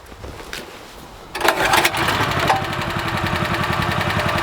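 A BCS walk-behind tractor engine is pull-started: a short quiet rope pull, then a sudden catch into a loud, steady, close chugging run that continues to the end.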